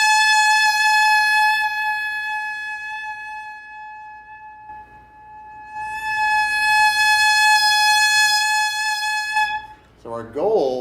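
A saxophone mouthpiece played alone holds a steady, buzzy A that fades gradually in volume, cuts briefly, then returns loud before a short burst of voice at the end.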